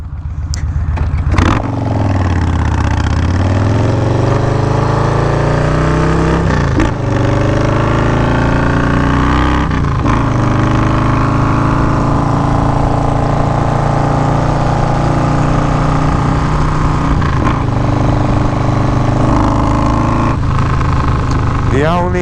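A motorcycle fitted with a Graffeo exhaust system rides past loudly, its deep engine note rising and falling through several throttle blips and gear changes and sounding close throughout, with no talking.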